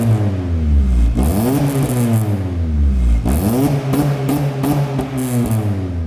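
A Subaru exhaust, newly repaired after a hole, revs repeatedly up and down close by, the loud engine note climbing and dropping several times in a row.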